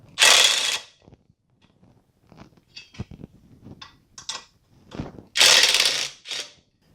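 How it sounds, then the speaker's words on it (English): A ratchet removing the skid plate bumper bolts on a Raptor 700 ATV, two loud close bursts of rapid ratcheting at the start and near the end, with scattered metallic clicks and taps between. "I'm going to take off these lower bolts and probably the upper bolts"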